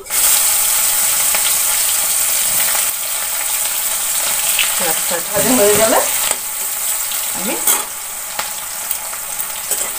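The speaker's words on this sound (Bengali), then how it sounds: "তেলটা গরম হয়ে গিয়েছে, এখন আমি পেঁয়াজটা দিয়ে দিই।" Onions fry in hot oil with a steady, loud sizzle throughout, with a few stirring scrapes in the middle and a brief spoken word.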